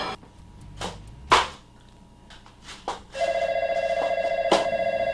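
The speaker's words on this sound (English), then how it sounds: "I do not answer the phone when I'm cooking." A telephone bell rings with a sustained electronic trill that starts partway through, following a few sharp kitchen clatters and knocks.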